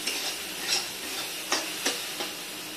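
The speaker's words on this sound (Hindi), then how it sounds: "देखिए सब मसाले मैंने अच्छे से भून लिए," Masala spices fry in a pan for a taro root curry with a steady close sizzle, broken by a few sharp scraping stirs of a spoon against the pan.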